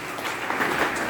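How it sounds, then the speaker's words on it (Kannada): An audience at a Dasara festival programme at a temple-monastery in Telsang claps in a dense, sustained wash of applause for a short stretch. "ಚಪ್ಪಾಳೆ ತಟ್ರಿ."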